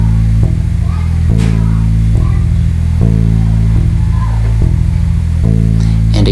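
Bass playing the B part of the bluegrass tune Cripple Creek, a steady loop of low plucked notes with a droning, buzzy tone, close and loud against a constant noisy hiss.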